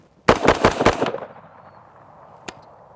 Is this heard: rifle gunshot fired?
yes